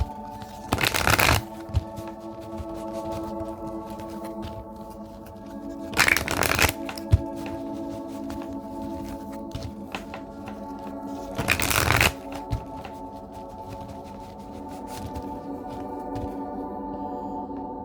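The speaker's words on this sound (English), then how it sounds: "Shuffle again 3 times." Cards are shuffled three times in short riffling bursts, evenly spaced, over a quiet background.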